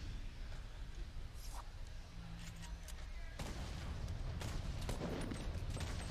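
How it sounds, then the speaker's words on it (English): Grenade launcher explosions sound in a Fortnite tournament match: a series of sharp blasts and booms over a noisy, rumbling battle background, with no talking. "Oh, that player with the nade launcher."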